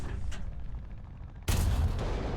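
A gunshot in a video game cracks out loud and sudden about midway, followed by a sustained, roaring rumble that carries on to the end over a low background murmur.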